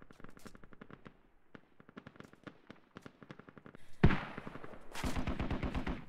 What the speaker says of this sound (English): There's a lot of smoke and bullets flying around now